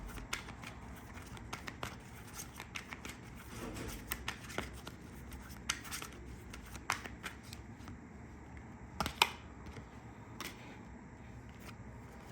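Tarot cards shuffled by hand in a quiet room, a steady soft riffling and flicking with sharper card snaps scattered throughout, close and moderately quiet, no voices.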